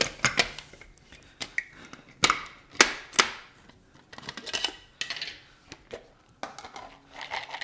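Hard hazelnuts clatter and rattle into a blender in several uneven bursts, with sharp clicks and short pauses between pours.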